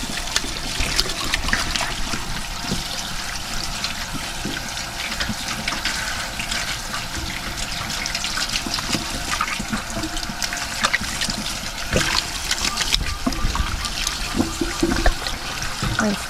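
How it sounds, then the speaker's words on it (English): Water runs steadily from a homestead sink faucet as a freshly butchered chicken is rinsed of blood and feathers, a continuous splashing hiss close by with small bumps and dribbles. "come over here to our sink, wash her down, get all the blood, anything we might have missed"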